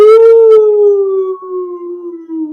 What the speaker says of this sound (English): They're outside howling.